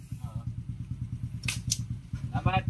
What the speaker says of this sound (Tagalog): napakaganda ng tunog ulit ng kanyang motor